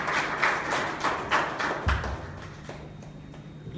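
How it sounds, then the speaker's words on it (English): A round of applause at a press conference honouring cricket captain MS Dhoni, a burst of clapping from a small room that fades out within a few seconds. "I think that we owe him to a round of applause to one of the finest captains of India"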